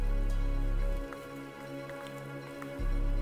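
Raindrops tap outdoors on a mule deer hunt, scattered close drips and patters over a steady low mechanical hum that drops away midway and then returns, with no talking.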